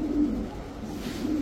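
A male Pakistani pigeon coos close by, a low, steady, droning call that swells at the start and again near the end, with no talk over it.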